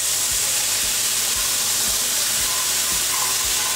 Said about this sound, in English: So now we're just gonna whisk in this balsamic.